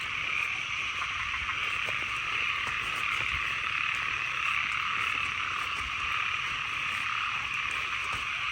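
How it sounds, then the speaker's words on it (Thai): A dense chorus of frogs and small frogs croaks without pause, a continuous loud shrill trilling that fills the night with no gaps. "กบเขียดลายเลยน้อง"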